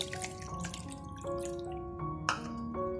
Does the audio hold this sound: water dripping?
yes